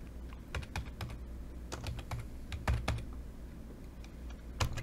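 Keys clatter on a computer keyboard in a steady run of close, crisp taps with occasional heavier presses such as the enter key, alone over a low room hum.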